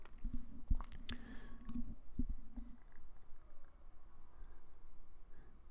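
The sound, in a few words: brushing polyaspartic coating along basement floor edges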